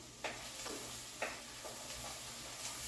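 Onions sauté quietly in a pan for mushroom soup, a soft steady sizzle with a few spoon-stirring scrapes and taps spaced across the moment.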